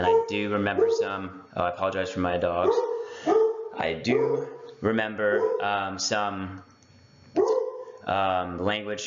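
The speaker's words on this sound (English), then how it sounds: "I apologize for my dogs." Dogs in a home yip and bark, with whining, whimper-like cries running throughout while a person keeps talking over them, the animal sounds close and fairly loud, tangled with the speech.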